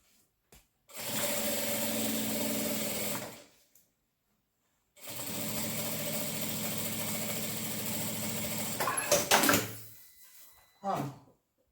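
A sewing machine runs in two sustained bursts, stitching along the top of a crystal-clear plastic pouch for a toiletry bag, with a pause between runs and brief handling knocks at the end.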